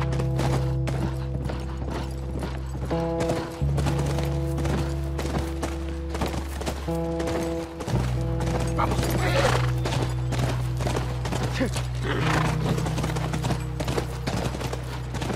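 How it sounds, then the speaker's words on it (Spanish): A horse in The Last of Us Remastered, with hooves clip-clopping steadily and a few neighs, close and prominent over sustained tonal background music. "Mira, junto al rancho. Es nuestro caballo."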